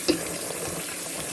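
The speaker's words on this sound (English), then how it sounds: "I'm just going to rinse it under some warm water." Warm tap water runs over rice in a strainer, a steady close splashing rush with a short clatter of grains at the start.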